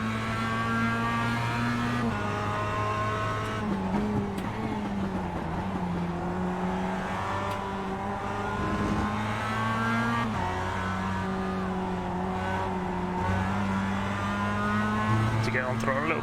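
A race car in the iRacing video game: a loud, continuous engine drone with shifting pitch as it revs and lifts, steady tire noise beneath, with someone talking over it.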